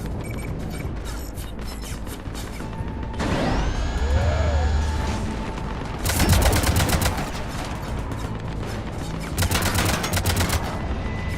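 Atlas mech cannons fire in Mass Effect 3, loud rapid bursts of mechanical gunfire with metallic whirring and booms, repeating in several volleys up close amid battle noise.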